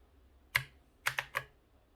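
Four crisp key presses on an NKEY R3 RGB mechanical gaming keyboard: one sharp click, a short pause, then three fast clicks close together in a quiet room.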